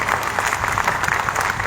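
An audience at a teachers' gathering of the National Democratic Teachers Front claps steadily, a dense, even wash of applause throughout with no break.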